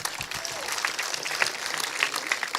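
A school audience of boys claps for the Kenyan sprinter Ferdinand Omanyala in a dense burst of applause, moderately loud and continuous, with a few scattered louder claps.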